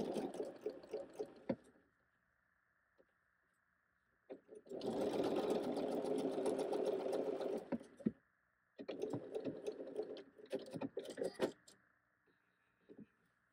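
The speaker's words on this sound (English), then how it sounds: "And go ahead and sew that at quarter inch." A sewing machine stitches a quarter-inch seam while piecing a leftover quilt block, running in short bursts with a long steady run in the middle and quiet gaps between.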